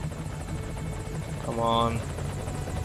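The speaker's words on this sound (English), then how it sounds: "Got to get on this chopper." Helicopter in Metal Gear Solid V arriving at a landing zone, a steady rotor drone under game music and a brief voice, loudest toward the middle of the clip.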